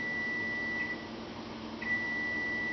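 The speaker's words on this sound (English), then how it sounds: "I heard that darn buzzer go off." A buzzer goes off as a thin steady electronic tone, sounding briefly, dropping out, then resuming, over a low background hum with no talk.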